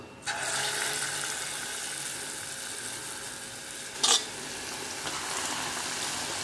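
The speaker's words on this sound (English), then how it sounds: "I'm going to fry a few for you to see" Food frying in a pan in a home kitchen, a steady sizzle holding at moderate loudness throughout, with a brief louder crackle partway through and no talking.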